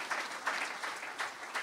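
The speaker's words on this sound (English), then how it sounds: "you can clap if you want to clap" Light, quiet clapping ripples through a gathering, coming in soft, pulsing bursts as a modest number of people applaud at some distance.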